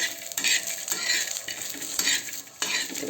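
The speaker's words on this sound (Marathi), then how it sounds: "आता शेंगदाणे टाकले टाकून एकदम चांगलं भाजून" Dry scraping and rattling as peanuts are stirred and roasted in a hot pan, with steady stirring strokes and a faint sizzle throughout.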